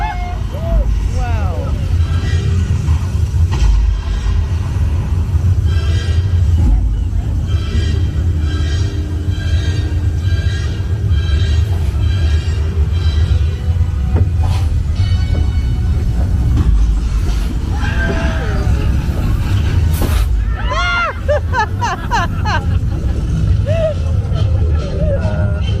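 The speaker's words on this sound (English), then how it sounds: "it's an electric tram" Electric tram rolling through the Universal Studios Hollywood backlot, a continuous rumble of motor and wheels with rattles and chirps, under people talking and faint calls.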